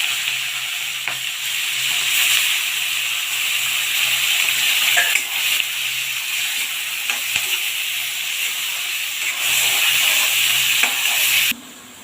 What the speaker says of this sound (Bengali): এখন চিংড়ি মাছগুলোকে ভেজে নেব।